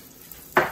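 Finely chopped celery and onions hit a hot pan, bursting into a loud, close sizzle after a quiet moment near the end.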